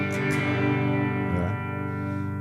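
Electric guitar played through a Valeton GP5 multi-effects unit with the reverb mix set too high, a sustained distorted chord washed in dense reverb that swamps the attack and rings on steadily.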